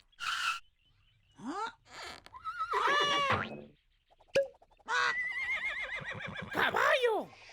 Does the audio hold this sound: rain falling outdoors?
no